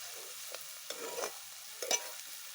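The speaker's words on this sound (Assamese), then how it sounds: "লাহেকৈ লৰাই দিওঁ।" Dried chillies and spices fry in a pan with pork belly as a spoon stirs slowly, giving a soft, low hiss with a few faint scrapes and rustles spaced apart.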